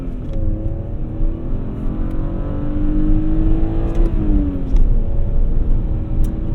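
BMW E46 330i ZHP inline-six pulling hard through first gear, a steady loud engine drone with rising harmonics that dip briefly at a shift-like break, then climb again, heard from inside the car with no talk.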